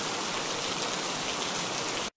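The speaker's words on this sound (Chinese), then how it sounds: "有没有下雨的声音就出来？" Rain falls steadily in a dense, even hiss of drops, a stock rain sound effect that plays briefly and then cuts off abruptly.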